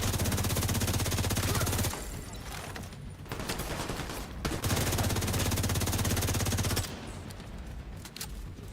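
Sustained bursts of automatic gunfire in The Division 2, loud and dense for about two seconds, then pausing and resuming in a second long barrage before easing off, with no talk over it.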